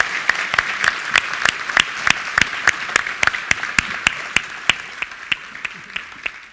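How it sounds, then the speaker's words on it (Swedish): A small audience applauds a winner of the Swedish National Heritage Board's merit medal at an award ceremony, with sharp, fairly sparse claps and a few louder individual hands standing out in a steady rhythm over about six seconds. "Jag tycker vi ger Kalle en ordentligt varm applåd."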